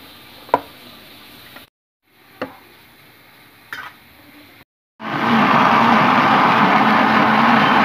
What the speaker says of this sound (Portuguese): Já botamos aqui a pimenta no liquidificador